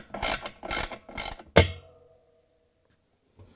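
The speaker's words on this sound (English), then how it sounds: "So I'm going to use this 10mm socket wrench, and I'm going to remove that screw in the center" A 10mm socket wrench turning out a center screw on a washer's pulsator assembly, three quick bursts of ratcheting clicks followed by a single sharp clunk, close and alone, then near silence.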